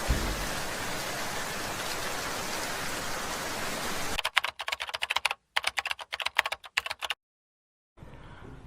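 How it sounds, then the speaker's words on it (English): Steady, dense hiss of heavy rain pouring for several seconds, then giving way to rapid clattering taps and brief silence. "Oh my god, it is raining so much."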